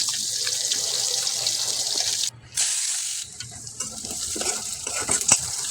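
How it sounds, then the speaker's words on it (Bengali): Tangra fish frying lightly in a pan, a dense steady hiss of hot oil with a sudden brief cutoff and quieter stretch, then spatula clinks and scraping as the fish is turned. "ট্যাংরা মাছটা ভাজা বসিয়ে দিয়েছি, হালকা করে ভেজে নেব ট্যাংরা মাছটাকে।"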